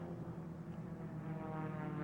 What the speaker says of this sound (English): here comes Cody, passing the last place airplane at this time